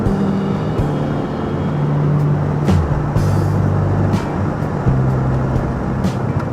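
A 2011 VW GTI driven hard on a straight, its engine drone steady and close inside the cabin, with tones that step up and shift between gears as it pulls.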